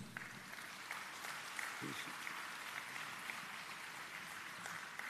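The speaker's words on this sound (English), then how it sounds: "Let's put our hands together and give all of them a round of applause." Applause at a graduation ceremony as graduates are honored, a broad continuous clapping from a large audience heard from a distance, steady throughout with a brief low murmur near the middle.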